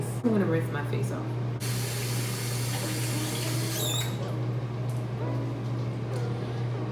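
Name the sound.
rinsing face with water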